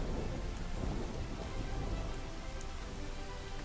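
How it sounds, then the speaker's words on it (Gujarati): Heavy rain pours down over a rural area of Dhoraji, Rajkot, as a dense, constant hiss of falling water with a low rumbling undertone. There is no talk. "રાજકોટના ધોરાજીમાં ધોધમાર વરસાદ પડ્યો"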